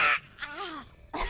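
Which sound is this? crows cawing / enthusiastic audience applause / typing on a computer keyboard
crows cawing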